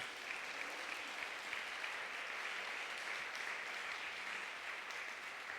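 A church congregation applauds together at a sermon, a steady, dense wash of clapping that stays even and sustained from start to finish with no voices standing out.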